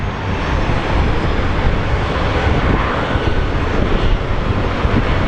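Spirit Airlines jet engines roar loud and steady at Sky Harbor airport, a continuous broadband rumble with no pauses.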